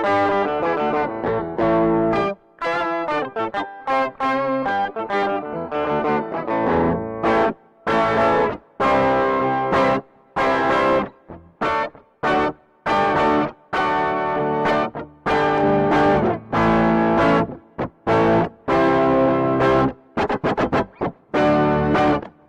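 Electric guitar through a NuX Roctary rotary and octave pedal, with a warbling, swirling modulation and a deep octave-down layer, playing a series of chords and riffs with short pauses between phrases.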